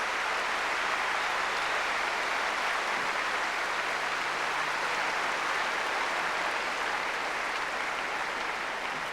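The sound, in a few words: crowd ovation for Steffi Graf, 1988 Australian Open tennis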